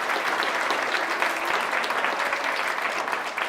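Steady, dense applause from an audience at a health and wellbeing launch evening, many hands clapping continuously and fairly loud for several seconds without a break.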